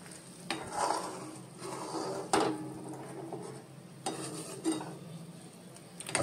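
Gram flour slurry being stirred into a pot of amti, a Maharashtrian lentil curry with spring onion, giving soft wet scraping and a few sharp spoon-on-pot knocks over a faint simmer.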